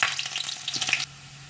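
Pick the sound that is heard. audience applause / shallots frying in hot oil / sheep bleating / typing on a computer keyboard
shallots frying in hot oil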